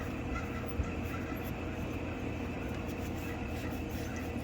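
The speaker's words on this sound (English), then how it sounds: "this AC compressor went bad" Failing AC compressor on a 2012 Nissan Altima 3.5 running under the hood, a steady droning mechanical hum with a faint honking, squawking whine, continuous and moderately quiet.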